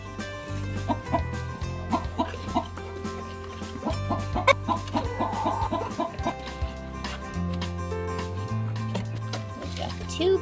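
Farm chickens clucking around a nesting hen with eggs, repeated close clucks and murmurs throughout while a person talks to them.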